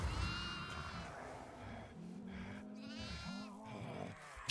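Goat bleating in the horror video game Devour, with several wavering, harmonic bleats repeating through the stretch over a steady low background rumble.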